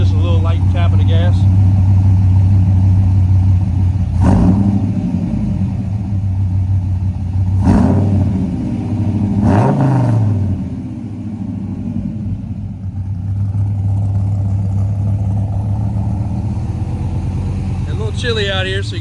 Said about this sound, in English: Hit the gas just a little bit, AJ.